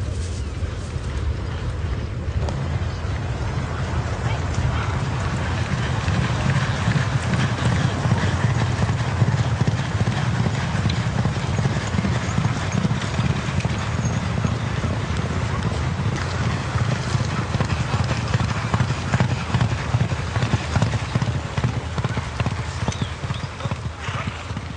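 Hooves clip-clop in a steady trot, close by and continuous, with a low rumble of wind in the background.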